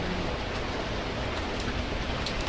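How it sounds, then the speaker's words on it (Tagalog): Steady rain hisses evenly throughout, a dense patter of drops on surfaces with no voices. "Ulan pa rin po siya."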